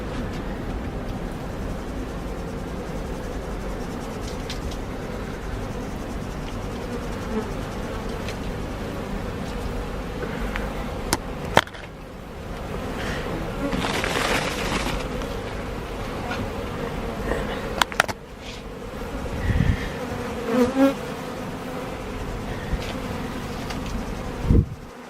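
A steady, close swarm-like drone of honey bees being dusted with icing sugar hums throughout, with occasional wind rumble and a few soft knocks.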